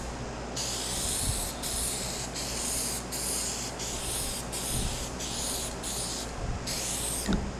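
An aerosol can sprays guide coat in a series of about eight steady hissing passes, each lasting roughly half a second, loud and close with short gaps between them and no talking.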